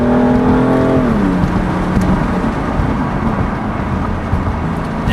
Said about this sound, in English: I'll just downshift it here for you with the window down so you can hear as you're driving a little bit of the exhaust